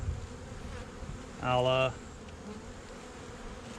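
Honey bees buzz around an open hive box, with a louder close pass of one bee cutting in briefly over the steady background hum, and a voice speaking faintly.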